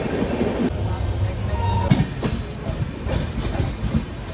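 A late passenger train runs through a station at Kishanganj in North Bengal, a steady broadband rumble with rhythmic wheel clatter and hiss, loud and continuous throughout.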